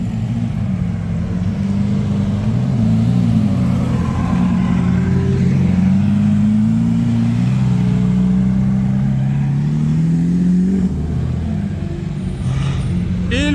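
Convoy of Lamborghini Aventador supercars passing by on a street in Cannes, a steady loud engine drone that swells and rises in pitch as the cars go past, with crowd noise around.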